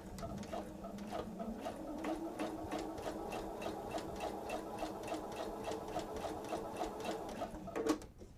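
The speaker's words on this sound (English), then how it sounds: "We're going to change it to a regular stitch, not a top stitch" A sewing machine runs a regular stitch while making a two-bottle wine tote. Fast, even needle clatter continues steadily and close by for about eight seconds, then stops abruptly, with no talking.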